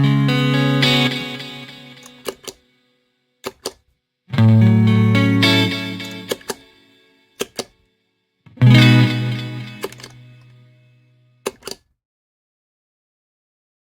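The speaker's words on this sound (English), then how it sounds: "bypassing both will only keep the reverb tail going." Eventide H90 pedal effects with distorted guitar-like chords, three loud swells each decaying into a lingering reverb tail, separated by sharp clicks of switching, with the wash fading slowly after bypass.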